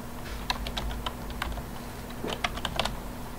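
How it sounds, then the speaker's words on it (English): Typing on a computer keyboard during a science lesson on the scientific method, a close run of quick irregular key clicks in short bursts over a faint steady hum. "I think I got room to type it."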